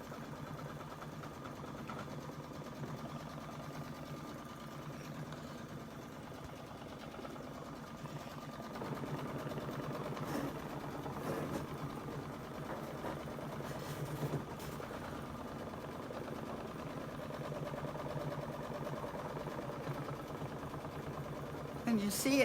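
A Solaris 2 embroidery machine stitches a border with a magnetic frame, giving a steady, continuous mechanical whir with faint rhythmic needle pulses, close and even throughout, while a person talks over it.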